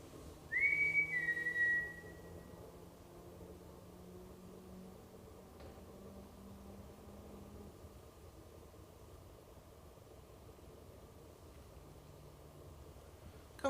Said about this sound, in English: can you copy my whistle, please?